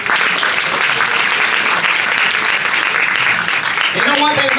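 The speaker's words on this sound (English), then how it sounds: "Let's give her a round of applause." Loud, sustained applause from an audience at a haircare event fills the space, with a voice starting to speak as the clapping fades at the end.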